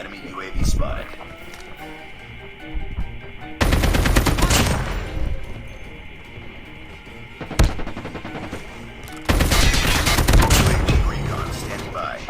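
Bursts of rapid gunfire in Call of Duty Mobile come in two long loud volleys with scattered single shots, over a steady game background hum.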